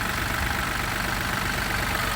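A BMW 116d with a twin-turbo 3-cylinder 1.5-litre diesel engine idles steadily, a loud, close, constant rumble with a faint knocking texture and no voices.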